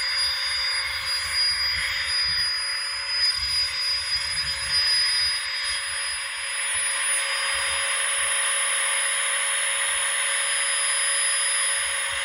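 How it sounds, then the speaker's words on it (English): A small electric air pump inflates a sleeping mat inside a tent during wild camping in rain and wind, giving a steady high-pitched motor hum that runs continuously, close and moderately loud, with low rumbles of wind beneath. "This pump is a lifesaver when it's cold,"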